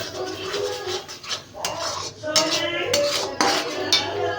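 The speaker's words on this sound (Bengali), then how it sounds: "সরি, টক দই বাটবো না, ফ্যাটাবো।" Sour yogurt being beaten in a metal bowl while cooking chicken rezala, giving busy clinking and scraping of utensil against bowl in quick uneven strokes, close and fairly loud, with brief pauses.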